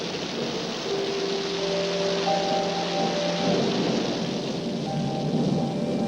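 Steady, heavy rain pours down continuously, with a low rumble of thunder underneath and faint tonal hum in the background.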